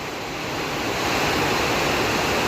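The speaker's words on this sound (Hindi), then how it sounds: "जैसे गधेरे में पानी जाता है वैसे ही पानी अभी रोड पे बहता हुआ नज़र आ रहा है।" Heavy rainwater rushing down a damaged mountain village road like a hill stream, a steady broadband wash that swells slightly and holds loud and close throughout.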